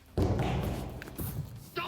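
A heavy thud of a person landing a jump on the floor hits sharply, followed by softer shuffling and a small second knock.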